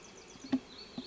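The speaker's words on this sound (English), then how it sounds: "there is a lot of bee activity on the wildflowers in my yard" Bees working the wildflowers in an unmown yard give off a faint, thin buzz, with a couple of insects passing close by for an instant.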